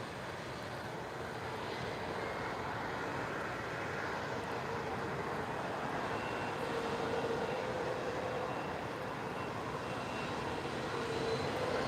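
An Airbus A330neo jet at Lisbon Airport on a cloudy, windy evening produces a continuous, fairly distant broadband engine rumble with a faint whine, building gently over the span with no speech.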